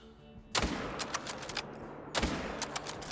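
A hunting rifle fires at a roe deer in theHunter: Call of the Wild. Two loud, sharp shots about a second and a half apart each ring out with a rolling echo.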